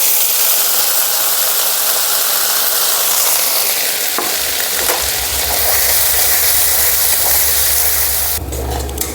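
Pea paste is poured into a hot pan and a loud, steady sizzle of frying builds. A sharper burst of spattering comes near the end, with no talking.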